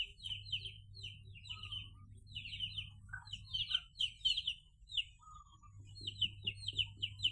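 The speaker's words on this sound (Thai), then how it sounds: "อันนี้ไก่นะไก่แจ้" Bantam chickens and chicks cluck and cheep repeatedly nearby at dusk, with bursts of calls over a low steady hum.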